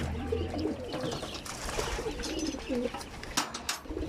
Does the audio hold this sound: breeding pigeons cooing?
yes